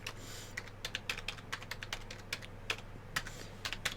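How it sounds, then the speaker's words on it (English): A loud, clicky computer keyboard is typed on in quick, uneven bursts of sharp key clacks, close and alone. "at this moment I've got to type onto a big clicky thing that is all over the place"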